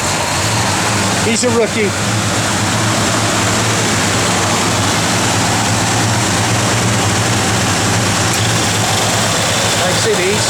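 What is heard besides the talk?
1971 Plymouth Road Runner engine starting and idling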